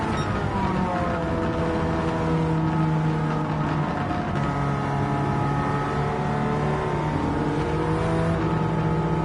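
Several racing car engines in the video game Gran Turismo 7 roar continuously, with high revving tones rising and shifting as they accelerate, loud and close with no talking.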